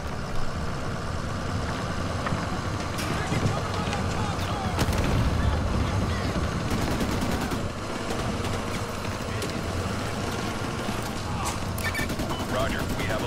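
Gunfire in the Call of Duty Modern Warfare 2 remastered campaign crackles as bursts of shots over a steady rumble of engines and battle noise, with a few sharper reports standing out.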